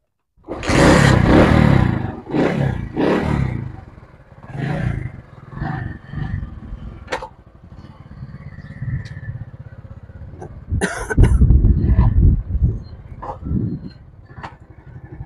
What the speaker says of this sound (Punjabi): ਅਸੀਂ ਹੁਣ ਆਪਣੇ ਮੋਟਰਸਾਈਕਲ ਨੂੰ ਸਟਾਰਟ ਕਰਦੇ ਹਾਂ